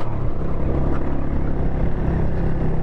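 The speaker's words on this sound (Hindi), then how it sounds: "भगा के रखो बाइक्स को" Motorcycles ridden fast uphill on a rough mountain road, their engines droning loud and steady with a continuous throaty roar mixed with wind buffeting, no talking.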